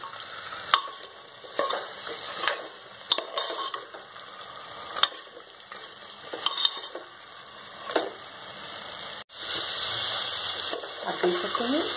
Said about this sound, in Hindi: अब 2-3 मिनट इसे भी चलाएंगे।